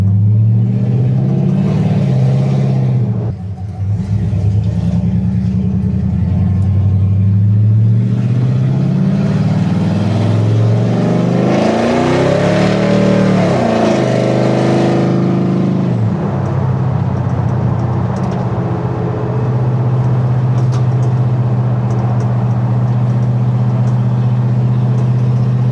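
A 1971 C10 pickup with an LS engine swap drives around town, its V8 rumbling steadily up close with a swell of revving acceleration in the middle before settling back to a cruising drone.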